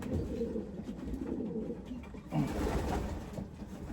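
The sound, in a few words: young racing pigeons cooing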